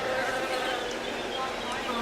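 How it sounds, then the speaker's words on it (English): Bees buzzing steadily around a pollinator garden display at an indoor flower show, a dense continuous drone with no voices. "We've got our bees in the background here"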